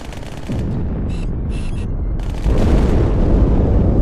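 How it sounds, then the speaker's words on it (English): In the Halo 2 campaign on Cairo Station, heavy rumbling explosions and bursts of gunfire roll through a loud, dense battle din, with sharp high-pitched effects and a stronger blast surge near the end. "That explosion came from inside the Athens."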